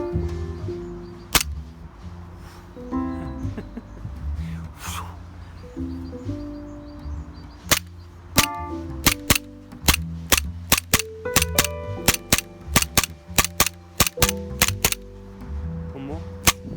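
Sharp, rapid shots from a VFC HK45CT gas blowback airsoft pistol firing BBs, first spaced, then a fast string of crisp cracks with slide clacks. Brief talk drifts underneath.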